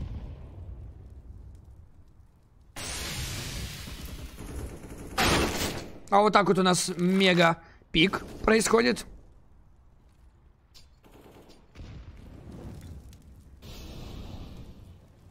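Gunfire bursts from a 2v2 tournament video game match, a dense loud volley of shots followed by scattered quieter pops, with a commentator talking excitedly over much of it.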